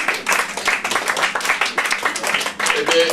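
An audience at a French cultural event applauds, steady overlapping hand claps at close range, brisk and fairly loud throughout with a few individual claps standing out.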